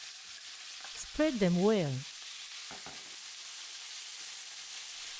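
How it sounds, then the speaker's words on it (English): Pieces of marinated beef searing in very hot oil with chopped garlic and grated ginger, a steady hiss of frying throughout, with a short spoken phrase near the start. "Briefly stir and add the pieces of marinated meat."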